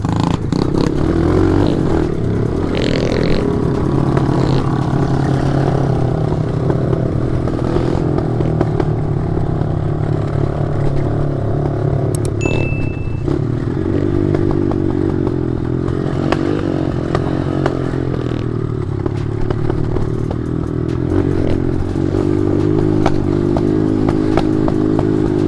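A mini motorcycle churns through deep mud, its small engine droning loudly and steadily throughout with revving surges, alone with no talk.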